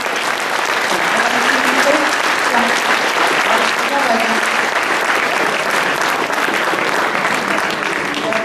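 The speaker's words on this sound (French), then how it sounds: "Voilà, vous pouvez les applaudir aussi," An audience at a 30th anniversary celebration applauds loudly and steadily, a thick wash of clapping with some voices mixed in, sustained from start to finish.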